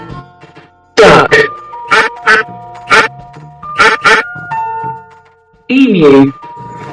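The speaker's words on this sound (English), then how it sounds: "Duck." A domestic duck quacks loudly and nearby in several short, nasal calls, spaced irregularly, with a final longer quack after a brief pause.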